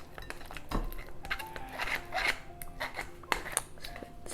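A spoon stirs and mashes strawberries in a container for strawberry açaí lemonade, with soft scraping, wet squelching and occasional light clinks against the side, close and fairly quiet.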